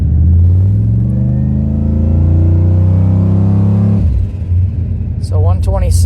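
A car engine held on the foot brake and revved hard to bring its temperature up, a loud sustained rising roar that drops sharply after four seconds to a rough idle, with a voice briefly talking near the end.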